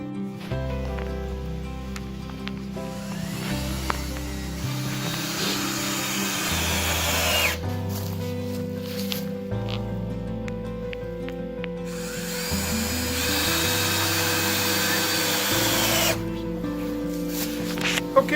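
A power drill drives screws into wood while a tunnel structure is braced ahead of a snowstorm, its motor whirring in several sustained runs that shift pitch between bursts, close and fairly loud.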